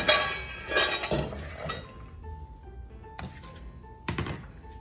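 Overnight-soaked pecans are tipped into a bowl in a kitchen, with a loud clatter of nuts and dishware at first, then a few separate clinks and taps ringing out in a quieter space.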